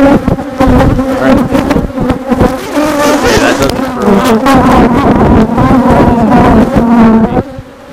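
A strong honeybee colony buzzes at the hive entrance, a loud dense drone of many wings with shifting tones, steady and close, easing off at the very end.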